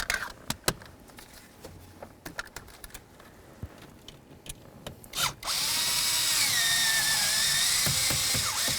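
A power tool, likely a drill or impact driver, runs steadily for a few seconds while removing a wiring harness bolt on a Chevy S-10 pickup, preceded by sparse clicks and taps of handling.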